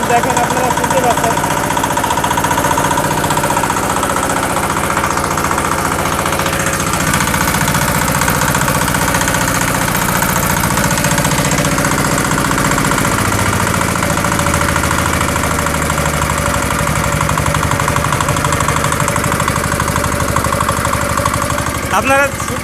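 A used, reconditioned EM175 5 hp diesel engine on a pump set idles loudly and close, with a constant rapid knocking chug and vibration throughout.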